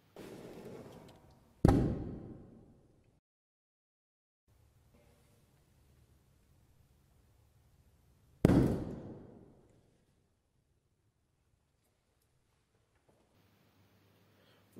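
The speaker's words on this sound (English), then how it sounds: "Here is a video of a guy burning gunpowder to show you how fast it burned." Two sharp bursts of burning gunpowder flare up about seven seconds apart, each a sudden loud whooshing crackle that dies away within a second or so, with near silence and faint background noise between them.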